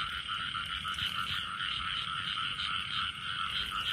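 Field frogs croak at night in a dense, continuous chorus of rapid trilling calls, steady and fairly loud throughout, with no voices.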